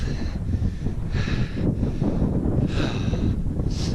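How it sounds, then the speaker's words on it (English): Strong wind near a mountain summit on the Colorado Trail buffets the microphone in heavy, continuous rumbling gusts, loud and close, with no speech. "it's getting windy because we're getting close to the top"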